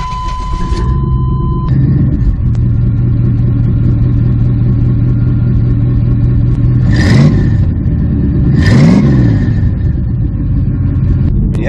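A pickup truck engine cranks and catches, then idles with a steady rumble; a couple of quick revs flare up near the end, close and loud.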